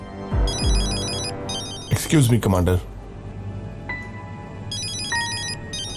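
A telephone ringtone chirps in short repeating electronic bursts, first near the start and again at the end, while someone speaks and a loud clatter of movement cuts in between.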